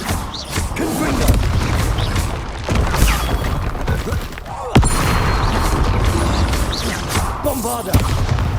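A Confringo fire-blast spell explodes in the video game Hogwarts Legacy, a loud burst amid constant battle noise with crashes and mechanical clatter throughout.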